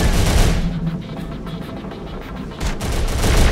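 Heavy gunfire in the Terminator: Dark Fate - Defiance video game, a Fort Worth, Texas battle, with dense automatic bursts and booming shots crackling loud throughout, easing briefly before another volley erupts.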